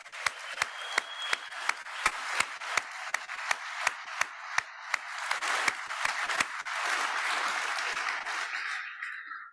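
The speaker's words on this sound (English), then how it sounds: "let's give all of our exhibiting artists a round of applause" A graduation audience applauds exhibiting artists in a hall, opening with sharp single claps that swell into a dense, steady round of clapping from many hands.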